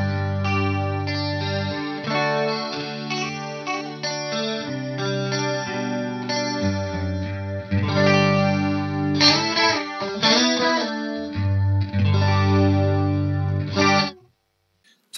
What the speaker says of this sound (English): So that's quite a nice chorus. There's a nice shimmer to that